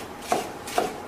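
Knife chopping onion and celery on a cutting board, two crisp separate cuts in an even rhythm, close and clear over a quiet room.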